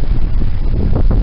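Steady, blustery wind roaring across the microphone on a sailboat sailing close-hauled, a continuous rough buffeting with low rumble and no voices.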